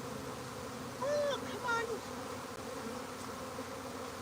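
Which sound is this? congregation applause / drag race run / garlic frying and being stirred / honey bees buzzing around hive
honey bees buzzing around hive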